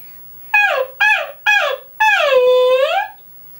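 A singer's voice imitates a puppy whimper in a nasal resonance exercise: three short rising whines followed by one longer drawn-out whimper, loud and close.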